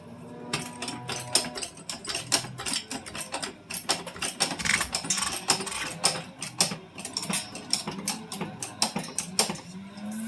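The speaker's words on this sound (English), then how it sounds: "With the impact wrench, you ain't got to do that." Impact wrench loosening lug nuts on a car, heard as dense rapid mechanical hammering and ratcheting bursts that run steadily and loud across the whole stretch, with no talking.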